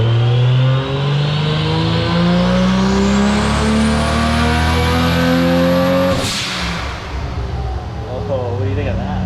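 A Toyota Supra Mk IV engine revs hard during an audio-recording pull, climbing in pitch as a loud, close roar before dropping sharply and settling into a rougher, burbling idle.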